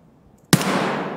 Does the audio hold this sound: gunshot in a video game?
yes